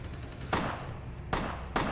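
Gunfire in the video game Vampire: The Masquerade - Bloodlines, heard as three loud shots about half a second to a second apart, each with a broad burst and a ringing tail, and no talk.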